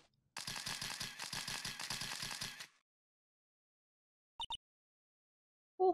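A camera shutter fires in the video game Phoenix Wright: Ace Attorney: a quick double click stands alone after a long stretch of rapid rhythmic clacking, followed by silence.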